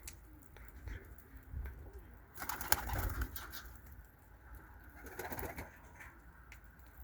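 White crested pigeons coo softly nearby, with a louder flurry of wingbeats and rustling in the middle as the flock takes off.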